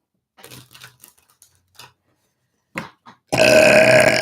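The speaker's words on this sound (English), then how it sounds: "Spirit makes me burp for anyone who's new here." A loud, long, rasping burp bursts in near the end after a few quieter, scattered mouth and breath sounds. It is close and dominant.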